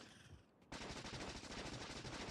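Rapid automatic gunfire in the Factorio video game, a dense continuous burst starting abruptly after a brief quieter moment.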